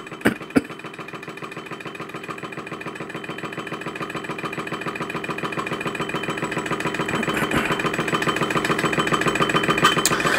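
An Empire B-38 model hot air engine runs steadily at close range, a fast even mechanical chugging that grows slightly louder over time, with a couple of sharp knocks at the start.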